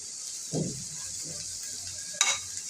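Curry cooking in a pan just after turmeric powder is added: a soft, steady frying hiss with a couple of brief stirring scrapes and one sharper clink near the end.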